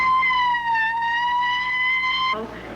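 A loud wailing ambulance siren holds a steady rising-and-falling tone, close by, then cuts off abruptly near the end into background noise.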